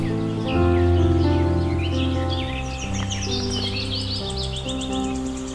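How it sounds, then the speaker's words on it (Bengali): Several birds chirp and call in quick, bright bursts, repeating over a steady low drone throughout. "দুটো একটা পাখির ডাক শোনা যাচ্ছে"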